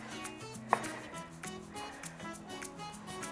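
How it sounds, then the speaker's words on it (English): A knife slicing pitted Kalamata olives on a cutting board, with soft, quiet, irregular taps and cuts under background music. "slice up some olives"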